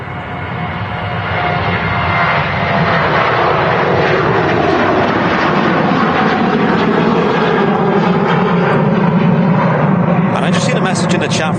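A Ryanair airliner departs Manchester Airport with a loud, sustained jet engine roar that stays close and powerful throughout, with a voice talking over it.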